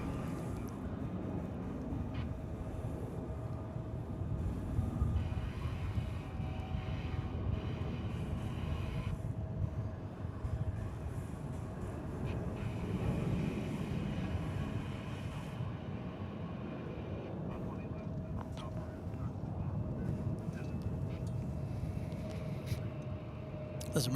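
An American Airlines jet takes off at Dallas/Fort Worth Airport, a steady, distant roar of engine noise that holds evenly for the whole stretch with no voices over it.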